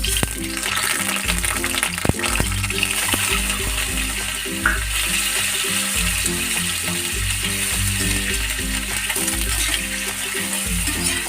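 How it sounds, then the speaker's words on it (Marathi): Eggs fry in hot oil for a dhaba-style village egg curry, a loud continuous sizzle and spatter close up, with a brief knock around the two-second mark. "तेल आता आपलं गरम झालेलं आहे। तर ह्याच्यात अंडे टाकून फ्राय करून घ्यायचे।"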